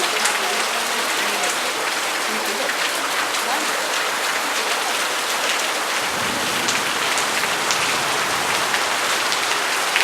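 Steady rain in Bracciano patters densely on surfaces for the whole stretch, a loud even hiss of close drops with no pauses.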